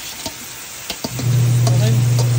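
Bean sprouts (togue) dropped into a hot pan, a few light clatters and then a loud, steady close sizzle that holds to the end.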